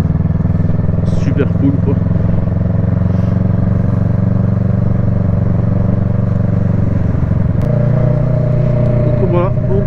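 A motorcycle rides through narrow village streets in the Quercy and Aveyron countryside, its engine a steady low drone throughout while someone talks over it.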